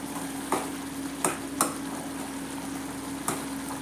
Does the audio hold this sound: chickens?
no